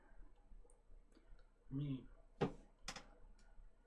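A computer mouse or keyboard gives a few sharp, close clicks spaced irregularly, with a brief voice sound in between.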